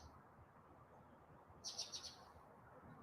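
A cardinal and another bird chirp outdoors, a short quick run of four or five bright notes in the middle, faint against quiet background hiss with no talking.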